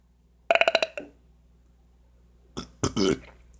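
A man burps loudly and close, a short pulsing burp followed after a pause by a second, longer guttural one, in a quiet room.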